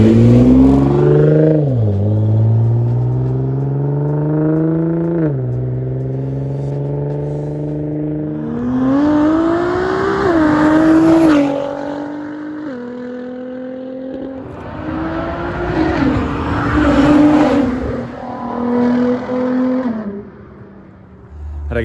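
A 600 hp Nissan GT-R R35 fitted with a titanium exhaust revs hard and pulls away, its loud, close engine climbing through several gear sweeps with raspy roars and crackling bursts, and no talk over it.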